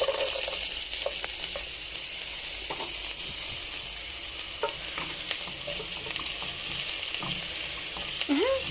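Onions frying in a little oil for a Kenyan dish, a steady close sizzle and crackle with occasional stirring clicks and scrapes throughout, no voices.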